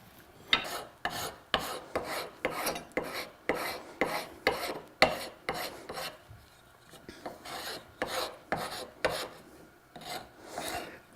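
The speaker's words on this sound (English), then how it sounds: "So what I'm going to do now is take my rasp and start to remove some of these marks." A wood rasp files a tomahawk handle in steady back-and-forth strokes, each a rough scraping rasp, repeated about two times per second close up, with a brief pause midway.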